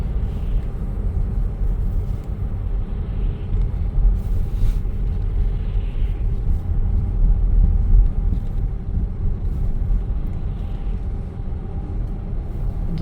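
Steady low rumble of a car driving along a road, even road and engine noise heard from inside the vehicle, continuous and moderately loud with no speech.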